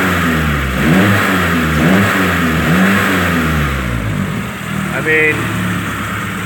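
A green 2018 truck engine revs a few times and then settles into a steady idle with a faint tick, loud and close, while someone speaks briefly over it.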